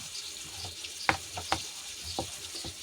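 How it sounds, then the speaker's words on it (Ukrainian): Zazharka with cracklings frying in a pan, a steady close sizzle broken by several sharp crackling pops and spatters, with no talking. "зараз поставила вже засмажечку, ну а як же з шкварочками"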